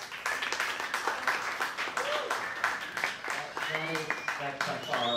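Concert audience at a live music venue applauding for a performer, clapping with cheers and whoops rising over it, moderately distant and lively, with voices calling out among the crowd.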